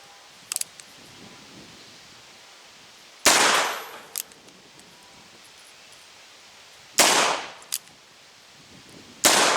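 Three loud black powder shots from a Pietta 1851 Navy .36 caliber revolver fired at an outdoor target, each a sharp blast followed by a decaying echo, separated by quiet gaps with small clicks between.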